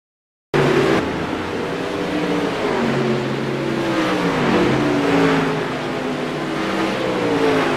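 Race cars in the iRacing sim circle the track during an intermission, engines droning steadily from start to finish with rising and falling pitch as they rev and pass, no talk over them.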